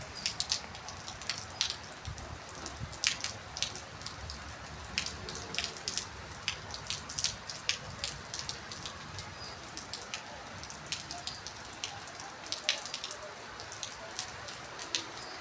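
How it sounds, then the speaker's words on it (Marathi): Rain pours steadily with dense patter and sharp drops striking a nearby surface, continuous and fairly close. "खूप पावसाचा धबधब आवाज येत आहे"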